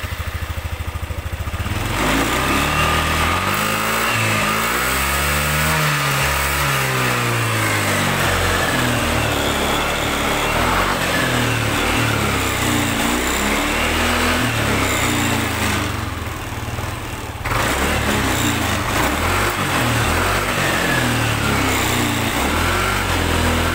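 An old Yamaha NMAX scooter with a weak fuel pump starts and revs, its small engine droning loudly and surging unevenly, hesitating under throttle before cutting out briefly and catching again.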